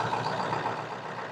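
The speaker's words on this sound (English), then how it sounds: "I've got the truck started and running." A diesel truck engine running steadily while it warms up, giving an even, close rumble with a faint tonal whine on top and no speech.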